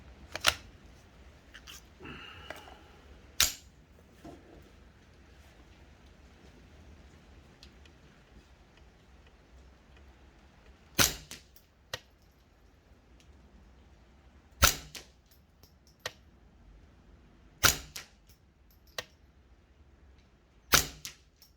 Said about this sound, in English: I'm going to be doing 5 round groupings at 50 meters using my kriss Defiance